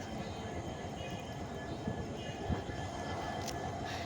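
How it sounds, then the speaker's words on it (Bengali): Ambience at Siliguri railway station in India, with a low, faint rumble of trains and distant murmuring, plus a couple of soft thuds and a brief high squeal. "এই শিলিগুড়ি স্টেশনে চলে এসেছি"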